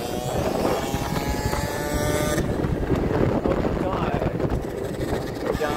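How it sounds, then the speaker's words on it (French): A motorcycle rides through traffic, its engine a steady drone beneath heavy wind rush on the microphone, continuous and close throughout. "Il y a un mec en moto"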